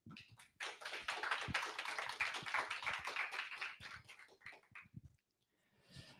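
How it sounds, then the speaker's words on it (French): A small audience at a talk on two-factor authentication claps for several seconds at moderate distance, individual hand claps audible, fading out, with a few scattered claps after a pause. "Donc merci de l'applaudir."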